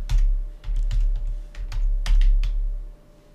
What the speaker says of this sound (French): Donc, je tape